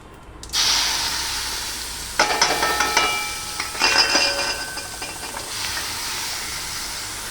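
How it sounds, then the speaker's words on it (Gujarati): Onion and tomato tempering sizzling in hot oil, loud and close, with bursts of crackling as the vegetables hit the pan, then a steady frying hiss that fades slightly toward the end. "અમે ડુંગળી ટમેટાનો વઘાર કરી લઈએ"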